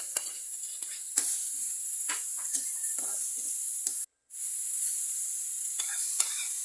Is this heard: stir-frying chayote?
yes